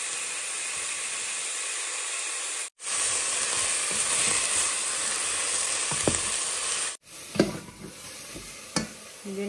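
Egg and vegetables fry in a hot home-kitchen pan with a steady close sizzle and hiss, broken by two brief pauses and a few clinks and stirring scrapes near the end; no one speaks.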